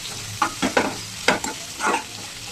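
Liver fry with mint is stirred in a hot pan, with about six distinct scraping strokes of the spoon over a soft, steady sizzle.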